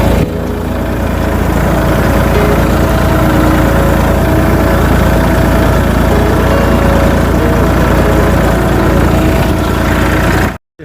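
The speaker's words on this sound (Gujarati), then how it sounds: "જોરદાર દાંતી હાલે હવે." A tractor engine drags a daanti cultivator through a field, a loud, steady low diesel drone with constant vibration running unbroken for about ten seconds before cutting off abruptly.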